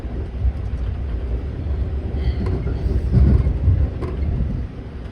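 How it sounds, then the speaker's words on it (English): A train rumbles along the rails on the ride into Cincinnati, Ohio, with a steady low heavy rumble, irregular clacks and rattling shakes heard from inside the car, no talking. "all this clacking and shaking and stuff you're seeing is coming from the train"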